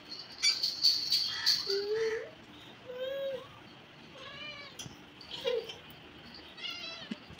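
A cat meows repeatedly in short, clear calls that rise and fall, spaced a second or so apart while a child plays with it indoors, with faint rustling between the cries.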